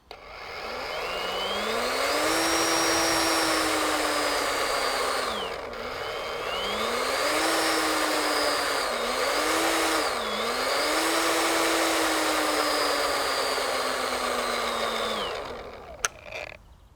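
Makita DUX18Z 18V cordless split shaft power head with its motor running steadily at high speed, the pitch dipping and rising several times as the trigger is eased and squeezed, then cutting out near the end.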